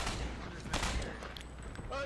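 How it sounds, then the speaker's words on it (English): Gunfire in the multiplayer shooter Ghost Recon Online, a dense rattle of overlapping shots and bursts in a busy firefight, heard low in the mix throughout. "There's a lot of people just getting shot at."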